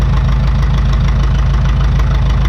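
A 1952 McCormick Super WD-6 tractor, started on gas and run on diesel, idles close and loud while warming up, a continuous, dense rumble with a fast, even low-end pulse and no pauses.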